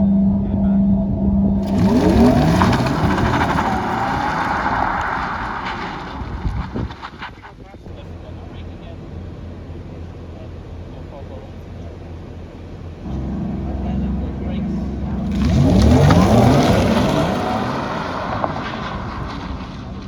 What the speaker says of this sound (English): Launch control, Taycan GTS.